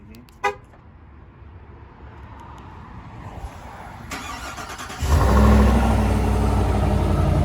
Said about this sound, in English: Do a little cold start here.